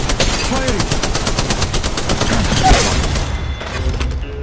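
Sustained automatic weapon fire in Apex Legends Mobile, a fast stream of evenly spaced shots close and loud, over game voice lines, tapering off near the end.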